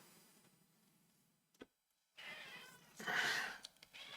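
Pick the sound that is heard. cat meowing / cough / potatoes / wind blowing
cat meowing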